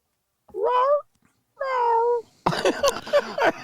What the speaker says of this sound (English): Sounds like a sick fucking cat.